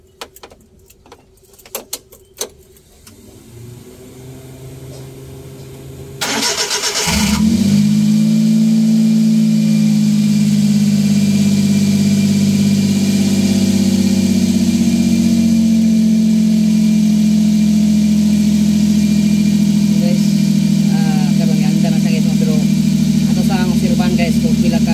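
A Suzuki DA63T with a K6A engine that has a low-power fault is started after light clicks and key jangles, cranking briefly before settling into a steady loud idle that runs on without a break.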